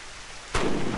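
A single loud gunshot fired in the German hunting game Treibjagd 3D, a sharp broadband blast that cuts in halfway through and leaves a sustained rumbling tail after a quieter lead-in.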